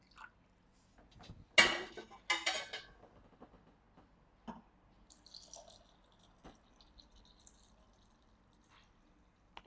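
A strawberry wine mixture is stirred with cooled boiled water in a container, producing a few sharp clinks and splashy stirring bursts early on, then faint drips and light liquid movement in a quiet room.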